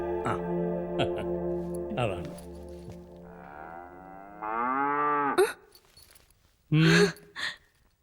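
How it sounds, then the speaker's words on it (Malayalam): A household cow gives a long, deep, close moo followed by a second drawn-out low, then people speak nearby. "പശു പശു ഞാൻ വളർത്തുന്ന പശു"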